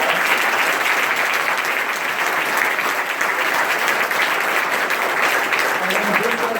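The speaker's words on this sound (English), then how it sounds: "let's give these guys another big round of applause" Conference audience giving a presenter's team a big round of applause, loud, dense, sustained clapping filling the room without a break, with no talk on top.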